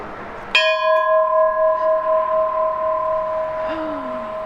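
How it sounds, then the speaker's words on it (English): A single bell is struck once and rings out with a long, sustained, slowly fading tone, followed by a faint, brief downward whistle-like sound near the end. "we've got a bunch of bells and whistles on this thing"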